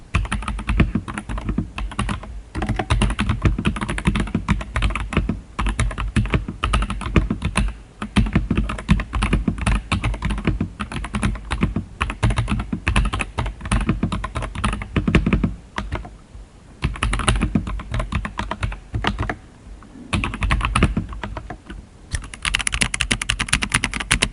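Rapid, close-up typing on a computer keyboard, a dense clatter of keystrokes with a few brief pauses.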